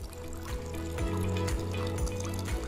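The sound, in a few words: gentle flow of water at a long stone trough fountain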